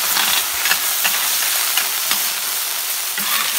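Clams hiss and steam steadily on a very hot plancha griddle, a loud, continuous sizzle with small pops and crackles throughout and no voices.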